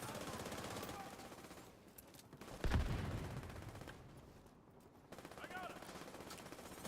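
Rapid gunfire from a grenadier in a video game test, a loud burst near the middle over continuous game noise, with someone talking throughout.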